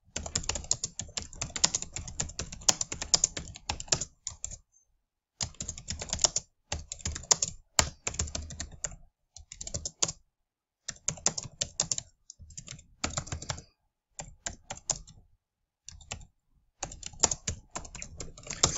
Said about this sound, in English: Sorry that I'm not talking while I'm typing.